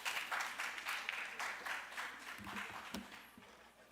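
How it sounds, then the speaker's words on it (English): Audience applause at a 2024 education conference as the president is welcomed to the stage, a steady wash of clapping filling the room with a few louder individual claps near the end. "Make him welcome with a round of applause, please."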